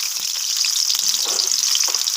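Chopped onion hitting hot oil in a wok, giving a loud, bright continuous sizzle with occasional stirring scrapes, close and with no talking.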